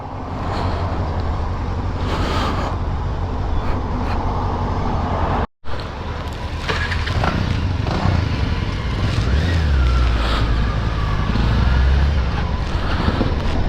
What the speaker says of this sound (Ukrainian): ми вже потихеньку викатуємо, У нас на зараз 10 мотоциклів